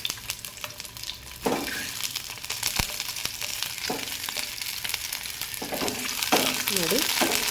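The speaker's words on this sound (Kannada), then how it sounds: "ಹಾಗೆಯೇ ತುಪ್ಪ ಬಿಸಿ ಆಗುವಾಗ ಇದರಲ್ಲಿ ಮೊಟ್ಟೆಯನ್ನು ಫ್ರೈ ಮಾಡುವ." Eggs frying in hot ghee over a low flame, a steady close sizzle and crackle with occasional sharp spatters and utensil scrapes, no talking.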